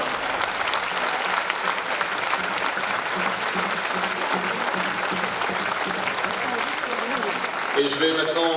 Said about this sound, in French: Je vous demanderai de l'applaudir bien sûr